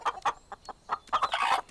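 A cartoon chicken in a TMNT episode clucks in a quick series of close, sharp bursts, building to a denser, louder squawk at the end.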